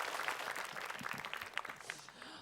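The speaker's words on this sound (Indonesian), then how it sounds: "tepuk tangan dulu untuk Sasam" Studio audience clapping for Sasam on an Islamic religious talk show, a faint, somewhat distant patter of applause that thins out toward the end.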